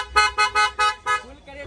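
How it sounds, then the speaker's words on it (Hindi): A loud, musical modified horn on a 2024 Maruti Alto K10 blares five short honks in quick rhythm, then a softer, wavering tone trails off at the end. "अच्छा एक बार हॉर्न की आवाज़ सुना दो भाई।"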